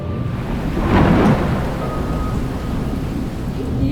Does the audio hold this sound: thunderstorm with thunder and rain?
yes